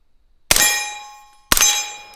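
Two sharp suppressed rifle shots about a second apart, fired with 147 grain subsonic ammunition through a short Dead Air Wolfman suppressor, each a hard crack followed by a bright metallic ring that fades slowly.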